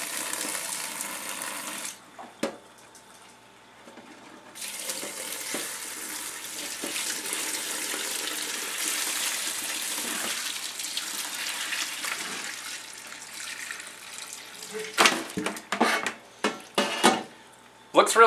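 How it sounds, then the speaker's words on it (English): Turkey brine flavoured with orange, tea and bourbon pours through a colander into a kitchen sink, a steady splashing rush broken by clatters of the colander and pan toward the end. "So slowly dump it out in your sink."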